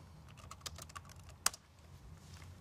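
Typing on a computer keyboard during an instant message chat, a quiet, irregular run of close key clicks with one sharper, louder tap midway.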